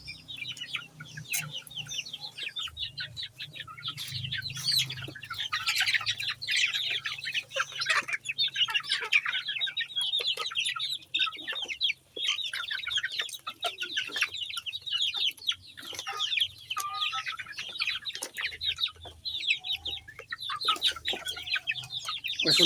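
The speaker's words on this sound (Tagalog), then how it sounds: "Ito yung bagong mga sisiw na mga malalaki." Farmyard chickens and young chicks cluck and cheep close by in a rapid, continuous chatter, with a low background hum beneath the birds.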